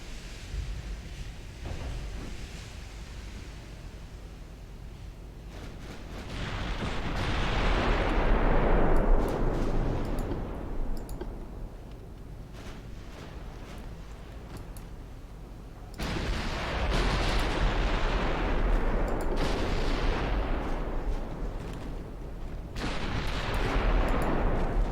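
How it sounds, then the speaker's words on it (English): Heavy warship gun salvos thunder in the Ultimate Admiral Dreadnoughts naval battle game, a British fleet of 1900 firing in repeated booming volleys with long rumbling decay, several loud bursts separated by quieter lulls of sea and distant rumble. "all my guns firing"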